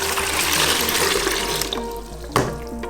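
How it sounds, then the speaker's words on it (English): About three cups of warm water pour noisily into a plastic mixing bowl for bread dough, a loud rushing splash that settles into a lower burbling fill with a brief clunk near the end, no talking. "about 3 cups of warm water in here. I'm going to add it to my plastic bowl."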